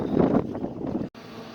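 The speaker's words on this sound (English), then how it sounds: "It's windy and freaking cold out." Gusty wind buffets the microphone with a low rumbling roar that briefly cuts out, then returns more softly.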